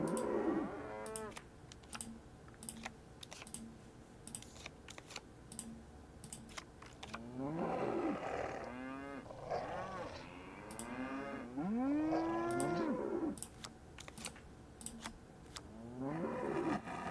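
Cows mooing in the Nancy Drew: Captive Curse video game, several long drawn-out moos in turns, some overlapping, over steady background noise and scattered clicking keys.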